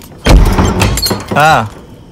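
Keys jangle and clink against a padlock as it is unlocked, a short burst of close metallic rattling, with a voice speaking briefly over the end.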